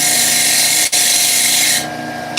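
A woodturning tool making a pull cut across a spinning wooden bowl on a lathe, giving a steady, loud broadband hiss and scrape with one brief break near the start and a slight drop in tone toward the end.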